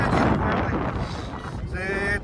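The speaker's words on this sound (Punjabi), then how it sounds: "ਇੱਥੇ ਬਹੁਤ ਠੰਡੀ ਹਵਾ ਚੱਲੀ ਜਾਂਦੀ ਹੈ" Cold wind at Zero Point, Sonamarg during snowfall, a steady, close rumble buffeting the microphone throughout, with a voice briefly heard near the end.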